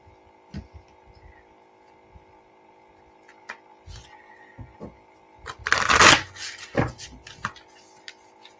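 Tarot cards being shuffled indoors: scattered soft taps and riffles, then a loud close flurry of shuffling, with a quiet hum underneath.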